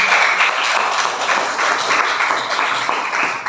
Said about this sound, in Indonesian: Beri itu aplaus.